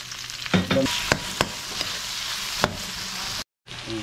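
Ginger, garlic and onion sauté in a pan with a soft, close sizzle, broken by several scraping stirs and clacks of the utensil before a brief drop to silence.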